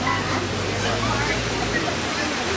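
Steady rushing water from a waterfall beside the hippo enclosure on a Kilimanjaro Safaris ride at Disney's Animal Kingdom, a broad continuous roar with low rumble and faint background chatter.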